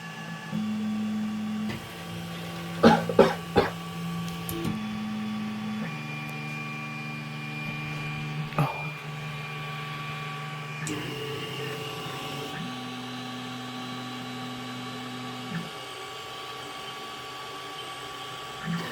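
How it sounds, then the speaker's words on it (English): A Zortrax M200 3D printer at work, its stepper motors whining in shifting steady tones that change pitch every few seconds, with a cluster of sharp rattling clicks early on and fainter knocks later. "So you can probably hear that rattling noise."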